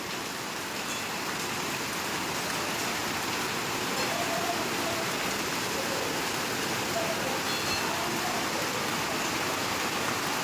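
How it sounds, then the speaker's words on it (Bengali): Heavy rain pours down in a steady, dense roar, constant and close throughout with no breaks. "তাহলে বুঝতে পারবে কত জোরে বৃষ্টিটা পড়ছে।"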